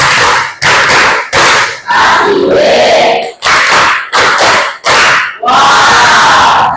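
A classroom of students performs a rhythmic clapping chant with shouted calls, loud bursts of clapping and voices in repeated phrases separated by short pauses, ending in a longer sustained cheer.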